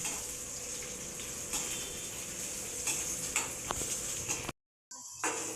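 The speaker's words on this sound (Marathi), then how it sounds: "आता हे जरा चांगलं फ्राय करून घ्यायचं. मिरची लसूण फ्राय करून घ्यायची का?" Green chilli and garlic frying in a pan, a quiet steady sizzle with occasional utensil clinks, cut by a brief silence near the end.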